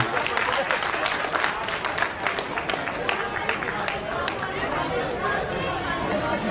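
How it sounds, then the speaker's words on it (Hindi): Schoolchildren clap loudly and continuously at a Teachers Day ceremony in Kotdwar, Uttarakhand, a thick wash of applause mixed with crowd chatter and a voice speaking over it. "जोरदार तालियां बजाते रहिए बच्चों"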